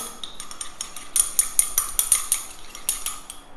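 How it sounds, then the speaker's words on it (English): A utensil stirs vegetable glycerin into hydrosol in a small container, giving repeated light clinks and taps against the sides in a brisk, uneven rhythm, close and alone. "Mix it all well together"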